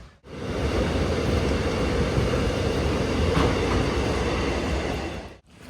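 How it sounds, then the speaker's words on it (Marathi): A train arriving at a platform rumbles and rattles steadily alongside, wheels clacking in a continuous loud roar that fades in and out at the ends. "आपली ट्रेन लागलेली आहे"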